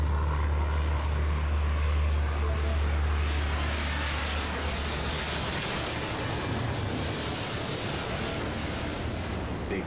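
A jet airliner landing in the airport simulation game Airport Madness produces a steady, loud engine roar and rumble that holds throughout without pause.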